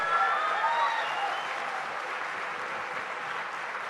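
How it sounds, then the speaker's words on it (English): A conference audience breaks into sustained, dense applause, a steady wash of clapping with a faint whistle-like tone at the start. "Please give them a huge round of applause,"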